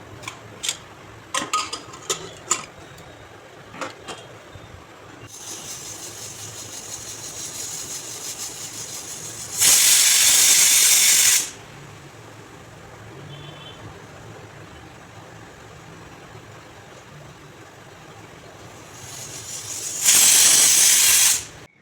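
A pressure cooker holding water and a little salt lets out two loud, hissing steam whistles, each lasting a couple of seconds, roughly ten seconds apart, over a low kitchen background with a few clinks at the start.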